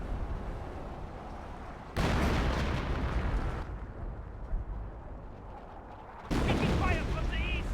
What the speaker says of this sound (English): Artillery raining on in